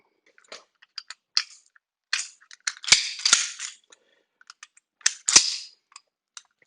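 A pistol's slide stop being fitted back into the frame during reassembly, with a series of sharp, close metallic clicks and snaps in quick irregular bursts, separated by near silence and no talking.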